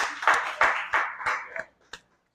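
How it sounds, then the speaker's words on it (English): Short round of applause from a small audience at a real estate insurance talk, a few sharp bursts of clapping that fade out within two seconds. "Round of applause."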